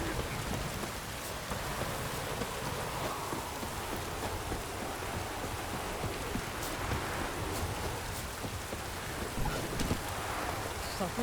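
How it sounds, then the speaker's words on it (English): Heavy rain pouring down in The Witcher 3: Wild Hunt, a dense, steady hiss of drops drumming on surfaces throughout, with faint rumbles and wind underneath and no voices. "Proper downpour this is."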